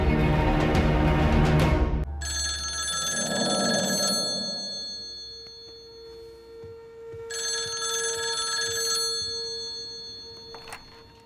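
Landline telephone bell ringing in two long trilling bursts with a pause between, clear and fairly close, following a brief louder burst of sound at the start.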